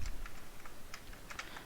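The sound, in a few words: typing JavaScript code on a computer keyboard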